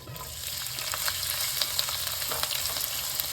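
Chopped onion dropped into hot oil with spluttering spices for a vegetable korma, giving a loud continuous sizzle with crackling pops and stirring scrapes, close and steady with no voices.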